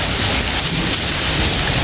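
Heavy rain pours steadily at a Buddhist pagoda, a dense continuous hiss with low rumbling that suggests thunder, loud and unbroken with no voices.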